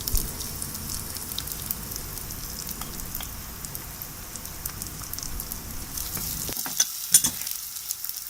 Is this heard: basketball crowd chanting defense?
no